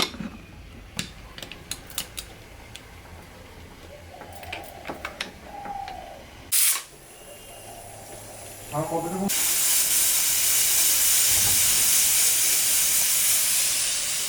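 Scattered clicks and clatter, then a loud, sustained steam whistle and hiss from a pressure cooker boiling potatoes that runs to the end.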